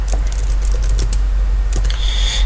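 A username is typed on a computer keyboard in short, quick bursts of close key clicks with brief pauses between them.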